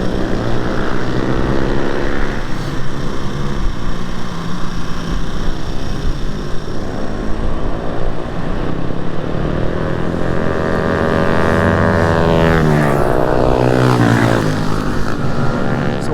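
Motorcycles lap a race track during a track day, with a steady, loud engine drone throughout and rising, sweeping pitch as bikes accelerate and pass, including a small Grom among the riders.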